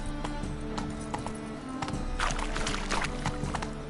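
Hooves of the horse Roach clip-clopping in a video game, a brisk run of hoof beats over steady game ambience with a louder scuffing patch midway, no voices present.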